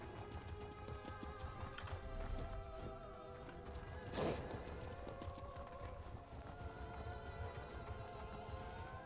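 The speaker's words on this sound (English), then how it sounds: "we have like a maxed out horse," A maxed-out horse gallops in The Elder Scrolls Online, Elsweyr, with faint rhythmic hoofbeats set low under dense game music and ambience.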